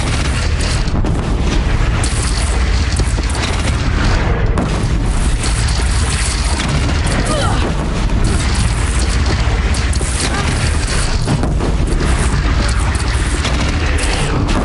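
A bridge is shot down and explodes in the Horizon Zero Dawn video game, a loud, dense roar of booming blasts and crashing debris that fills the whole stretch without letting up.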